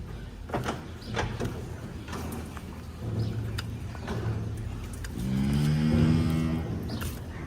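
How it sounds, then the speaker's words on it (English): A cow lets out a low, drawn-out moo toward the end, after scattered knocks and rustling, with steady background noise throughout. "She's mooing in the background merrily"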